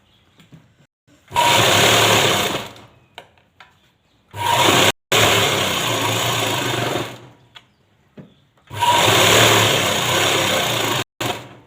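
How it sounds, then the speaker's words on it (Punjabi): A sewing machine stitches a lined belt in three long, loud bursts of rapid whirring, separated by short pauses, close up and with no talking. "ਇਹ ਸਿਰੇ ਦੇ ਸਿਰੇ ਤੱਕ ਆਪਾਂ ਸਲਾਈ ਲਗਾਉਣੀ ਹੈ ਇਸ ਤਰੀਕੇ ਨਾਲ"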